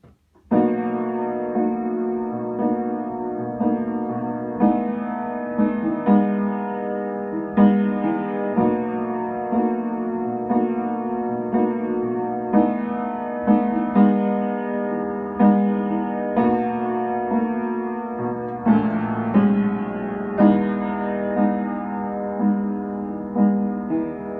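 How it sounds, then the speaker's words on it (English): Chorus of a song played on solo piano, steady chords with a sustained, rhythmic pulse throughout, close and clear with no voices. "And then you get into the chorus part, which sounds like this."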